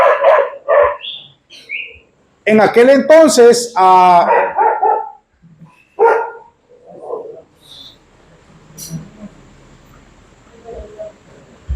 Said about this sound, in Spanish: no van a dejar de ladrar a los perros